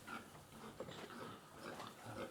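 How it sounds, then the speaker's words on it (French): Pigs on a straw-bedded farm grunt and snuffle softly at close range, with low irregular grunts over a muffled barn background. "le cochon est un animal curieux, mais pas téméraire."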